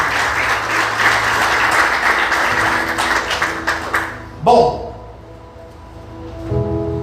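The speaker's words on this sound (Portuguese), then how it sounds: "Você pode aplaudir Jesus bem forte" A church congregation claps for Jesus during a service, a full burst of applause that rolls on for several seconds before cutting off, followed by sustained musical tones with a brief sound in between.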